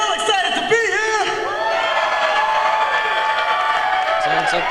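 A wrestling show crowd cheers and whoops loudly and continuously, with excited voices rising over the roar throughout.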